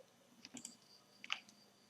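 A computer mouse clicking during work in PowerPoint, a few faint, close, sharp clicks in two small clusters against quiet room hiss.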